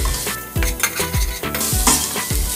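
Bottle gourd sabzi with chili and turmeric sautéing in oil, a continuous close sizzle punctuated by regular rhythmic clanks and scrapes of a ladle stirring against the pan, fairly loud and without speech.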